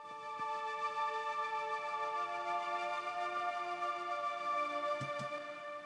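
A regular polysynth pad holds a steady sustained chord with a layered harmonic texture, fairly loud and alone, in an Afro house style production.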